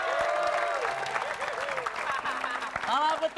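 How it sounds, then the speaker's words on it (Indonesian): A studio audience claps on a Ramadan television variety show, the applause spread under loud talking and background music rather than standing alone. "Oke, beri tepuk tangan dulu dong."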